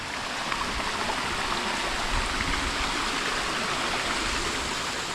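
Waterfall at a dam in Norzagaray, Bulacan, roaring in a steady, dense rush of falling water close by, continuous and loud throughout with no voices.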